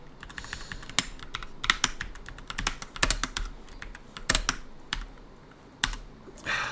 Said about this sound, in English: And now I'm typing it as it was a filter.